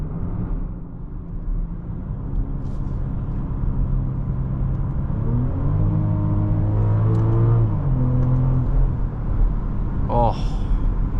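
A 2023 BMW X7 40i's engine hums steadily from inside the cabin while driving, with a rising revving tone swelling midway and then easing off, under a continuous road rumble.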